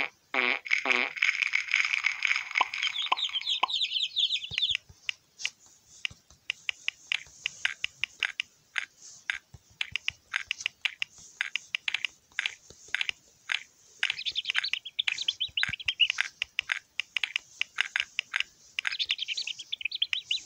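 Hungry chicks in the Peppa Pig video game chirp in quick, high, bright bursts, opening with a long twittering phrase, then scattered rapid chirps with brief pauses, fairly close and clear.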